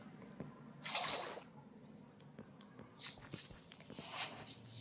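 Water is collected in Minecraft, with faint splashing and dripping bursts at intervals, quiet and close, with soft footsteps between them.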